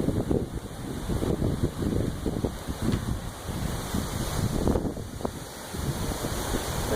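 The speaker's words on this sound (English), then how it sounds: "Can you hear the wind?" Strong wind gusts blow at a barn on a windy day, buffeting the microphone with a continuous, loud, rumbling roar that surges and eases throughout.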